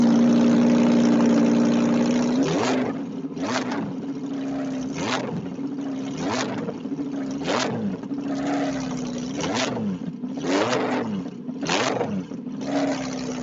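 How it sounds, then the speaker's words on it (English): An Audi R8 Performance V10 engine idles, then revs repeatedly in hard bursts, each rising and falling throaty roar loud and close, with no speech. "That V10 sounds so good. It sounds like it has guts. It's super throaty"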